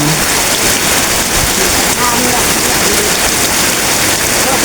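Heavy rain pours without thunder in a steady, loud, dense hiss, with faint talk under the downpour.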